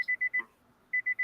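An electronic alarm beeps in a steady high-pitched pattern, a burst of four short beeps, a brief pause, then three more, fairly clear with no voices.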